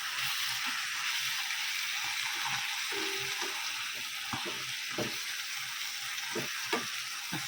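Mustard greens and spinach frying in a pan give a steady, close sizzle, with soft scattered stirring clicks and taps over the top.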